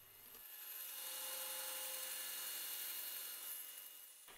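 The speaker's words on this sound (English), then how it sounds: "you're going to use the bandsaw to do it" A bandsaw cuts through a stack of wood parts, giving a steady continuous whine and rasp that holds for several seconds and drops off at the end, with no voices.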